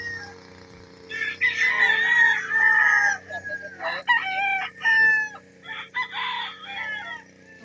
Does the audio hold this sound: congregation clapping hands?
no